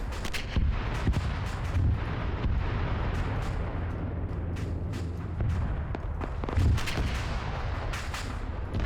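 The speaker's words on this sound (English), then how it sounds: "I just heard something explode" Explosions and artillery fire in a military combat video game set in Russia, rumbling booms and sharp cracking bursts that recur through a dense, continuous battle din.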